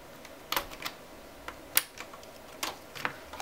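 A series of small plastic clicks and ticks as diffusion sheets are worked free inside an Elo Touch ET1928L monitor, irregular and close, some louder snaps among lighter taps.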